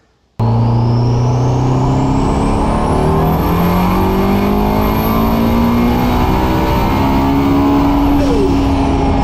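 Toyota MR2 with a swapped 1.8T engine and nitrous, accelerating hard after a sudden start: a loud sustained engine roar climbing through the gears with a rising turbo whine, heard close up.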